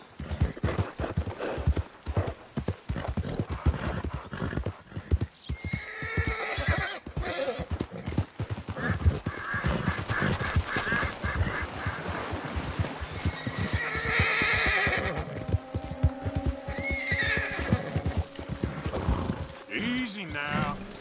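A horse in the video game Red Dead Redemption gallops with rapid rhythmic hoofbeats and lets out neighs and snorts, while someone talks over it now and then.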